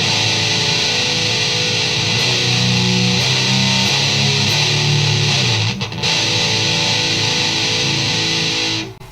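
Heavily distorted electric guitar in a nu-metal style with scooped mids, boosted lows and highs, chugging thick low chords sustained for several seconds, loud and close, no voice.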